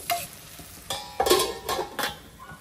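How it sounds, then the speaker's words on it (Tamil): Potatoes frying in a pan and being stirred, giving a few close, brisk bursts of scraping and sizzle spaced about half a second apart, with no talking. "இந்த பொட்டேட்டோ வந்து கொஞ்சம் நல்லா ஃப்ரை ஆகட்டும். அப்படியே கிண்டி விட்டுடலாம்."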